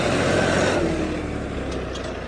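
A John Deere 5210 tractor engine runs under load with a loud, dense, steady rumble that eases slightly in level over the short stretch, with no talk.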